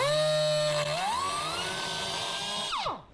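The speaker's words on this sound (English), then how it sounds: "That Metabo grinder sucks." A Metabo grinder runs during a snowmobile heat exchanger repair, its steady high whine rising in pitch partway through, then spinning down abruptly to silence.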